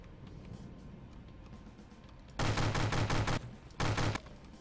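Two sharp SMG bursts in From The Depths, a longer rapid string of shots followed after a short gap by a brief second burst, loud against a quiet background hum.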